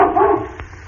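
An old hound dog's deep, drawn-out bark, given by a human voice imitating it: one long, loud, husky woof that trails off into a short, softer yelp.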